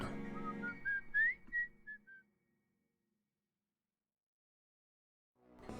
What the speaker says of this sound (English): The cartoon mouse then once again started whistling so he could drum along